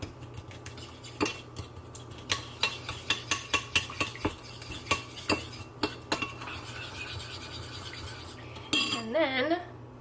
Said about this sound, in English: And then you just stir it all up.